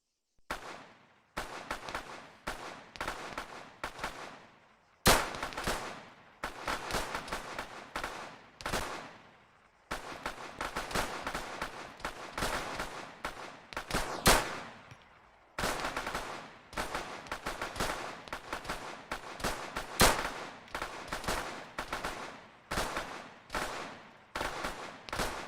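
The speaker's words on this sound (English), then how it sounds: "we are going to now do standing 20 meters with the Sig Sauer Mark 25 TR pistol. Okay, begin firing now." A Sig Sauer Mark 25 TR pistol firing from a standing position at 20 meters on a range: loud, close, sharp shots in a long irregular series, some in quick bursts and others spaced apart, with no voices.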